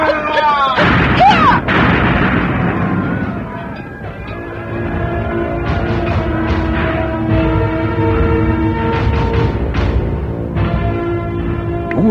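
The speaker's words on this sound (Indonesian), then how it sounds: "dua benturan ledakan terjadi di udara" Crashing booms and bursts of clashing magic blows in an Indonesian audio drama fight scene, loud and layered with ringing, whooshing effects, while a narrator speaks over them.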